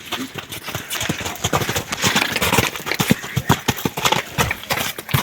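Hooves of a PKZ stallion moving about, a run of sharp irregular clip-clop thuds close by, dense and lively against a rough outdoor background with no talk.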